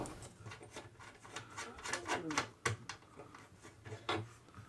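Close, dry scraping and rubbing of metal tools working a nut loose on a 1968 Astor M6-D transistor radio, with irregular clicks and rasps and a sharper knock near the middle, no voices.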